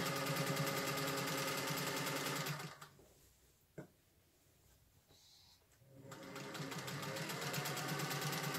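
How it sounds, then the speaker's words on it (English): A straight stitch sewing machine runs in a steady, loud mechanical whir, pauses for about three seconds with a faint click, then resumes stitching at the same fast, even pace. "a much higher quality stitch with a straight stitch machine"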